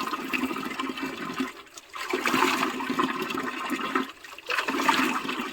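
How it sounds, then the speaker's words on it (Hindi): Cold water pouring and splashing steadily outdoors in a hilly village, a loud rushing flow that surges and dips in waves with no talking. "ये देखिए ठंडा ठंडा पानी।"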